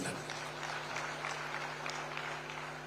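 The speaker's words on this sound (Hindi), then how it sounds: "जोरदार तालियों से वंदन" Audience applause at the opening of a Kalki katha religious discourse in Sambhal, a steady broad wash of clapping throughout with a faint sustained tonal hum underneath.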